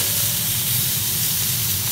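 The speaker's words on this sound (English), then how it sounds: "These things are sizzling away absolutely beautifully." Dry-aged wagyu fillet steaks sizzle steadily in a hot pan, a loud, continuous frying hiss with low crackle running throughout and no talk over it.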